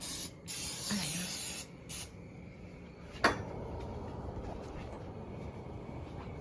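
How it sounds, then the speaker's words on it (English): Spray oil hissing from an aerosol can in a home kitchen, a close, steady broadband spray with short bursts and a clink of dishes, with no talk over it. "The oil is right there. The spray oil."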